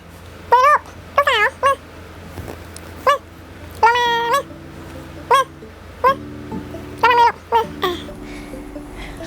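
Repeated cat meows in short bursts, some drawn out and rising, spread across the stretch with pauses between, clear and close over a low steady hum and faint background sounds.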